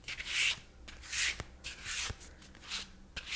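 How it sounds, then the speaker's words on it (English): Tarot cards are shuffled gently in soft, papery bursts, about five riffling swishes spaced out under a near-silent background, quiet and close. "Let's give the cards a gentle shuffle"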